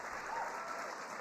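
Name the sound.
audience applause for the President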